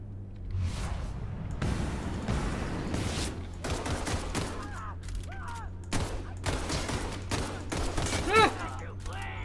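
Gunfire from the video game The Outer Worlds, irregular bursts of shots and impacts under steady game ambience, with a voice talking over parts of the action at moderate loudness.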